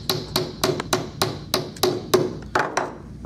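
A rear axle is tapped into place on a wheel with about a dozen sharp, close hammer taps in a quick, fairly even rhythm, each a crisp knock, with no talk.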